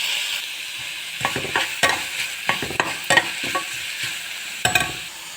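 Mint and curry leaves sautéing in a pan, a steady soft sizzle with repeated scraping stirs at an irregular rhythm, close and alone.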